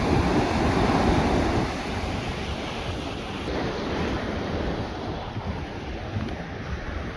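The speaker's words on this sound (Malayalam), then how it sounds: "ഞങ്ങൾ വന്നപ്പോൾ ഇത്ര തിരമാലയൊന്നും ഇല്ലായിരുന്നു കേട്ടോ ഇപ്പം നല്ല തിരമാലയായേ" Steady roar of surf rolling onto a black-sand beach at Thoppumpady, Alappuzha, with wind buffeting the microphone throughout; no voices.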